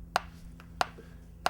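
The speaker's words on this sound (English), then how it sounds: "So if I turn the metronome on" Three sharp, evenly spaced clicks about two-thirds of a second apart, a steady metronome ticking alone over a faint low hum.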